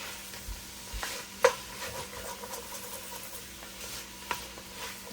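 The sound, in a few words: peppers and onions cooking in sausage oil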